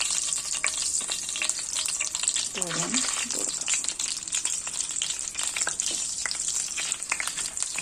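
Two to three spoons of coconut oil heating over a low flame in a pan for shallow-frying egg puffs give a steady, close, bright sizzle throughout, with a brief voice over it.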